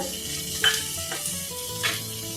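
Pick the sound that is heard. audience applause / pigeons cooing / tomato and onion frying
tomato and onion frying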